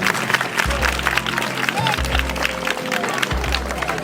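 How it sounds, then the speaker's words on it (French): School audience applauding girls at a spelling contest final, continuous crowd clapping with cheering voices and a low hum underneath, fairly loud and steady. "Applaudissez pour elle."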